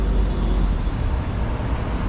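Steady road traffic rumbling along a busy street in Dubai, a continuous low drone of passing cars with occasional heavier vehicle noise, fairly close and without pauses.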